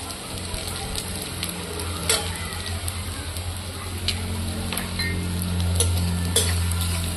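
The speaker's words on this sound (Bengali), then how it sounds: "লঙ্কার গুঁড়ো দিয়ে একটু নাড়াচাড়া দিয়ে জল দিয়ে দেবো।" Spices and chili powder for a katla fish curry sizzle in a pan as they are stirred, a close crackle broken by scraping strokes and occasional utensil clinks, with a low hum underneath.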